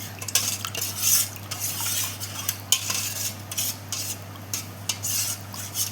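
Spoon stirring pudh kadhi batter, seasoned with salt, hing, chilli and coriander, in a metal pot in a home kitchen: repeated scraping and clinking strokes, close and steady, with a low hum underneath and no talking.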